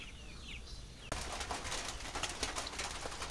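Pigeons coo softly at a village home, then a sudden burst of louder, broadband rushing noise takes over for the rest of the clip.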